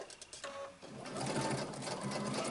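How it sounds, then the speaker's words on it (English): Domestic sewing machine stitching a waistband onto a pair of pants, starting with a few short bursts and then settling into a continuous fast whirring run, close and fairly quiet. "I'm going to sew the waistband onto the pants."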